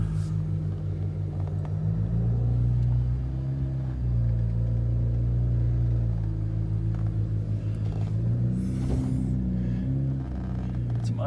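A BMW 1M rumbles nearby in sport mode as it pulls out, its engine note rising and falling through low revs with a steady exhaust drone, while a voice talks faintly in places.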